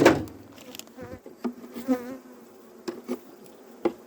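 Honey bees buzz around an opened beehive during an early spring hive check in Adana, a close, wavering drone with individual bees passing near, punctuated by a few sharp knocks as the hive is closed, and nobody speaking.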